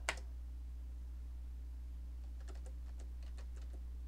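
Typing on a computer keyboard, one sharp key click at the start and then a quick run of light, irregular keystrokes later on, faint over a steady low hum.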